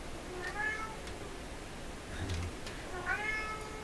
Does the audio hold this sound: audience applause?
no